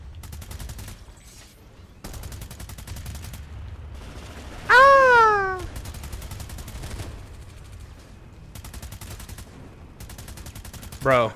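Bursts of assault rifle fire in the Planetside 2 shooter on PS4 rattle through most of the stretch, with short pauses between volleys and a rising electronic whine in the middle.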